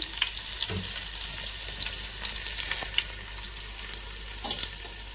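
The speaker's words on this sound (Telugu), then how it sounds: "ఇంకా ఆయిల్ కాగేసిందండి. ఫస్ట్గా మనం వెల్లిపాయ జీలకర్ర వేసేసుకుందాం." Garlic and cumin sizzling in hot oil for sambar, a continuous close crackling fry with scattered sharper pops and a few faint clinks.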